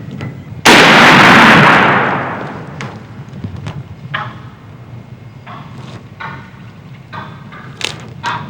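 A turkey hunter's shotgun fires a single loud, sharp blast in spring woods near Macomb, Illinois. The roar decays over about a second, then scattered faint clicks and rustles follow.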